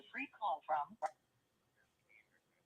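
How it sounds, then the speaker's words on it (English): An incoming phone call from a prison arrives as a short burst of voice-like telephone sound, followed by a few faint, thin tones trailing off into near silence. "I got a phone call coming in from the prison right now as we speak."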